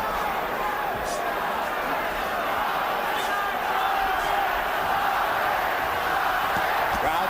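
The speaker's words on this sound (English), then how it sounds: "Crowd chanting Chavez, Chavez." A large boxing arena crowd keeps up a steady roar of chanting for Chavez, dense and continuous, with faint commentary under it.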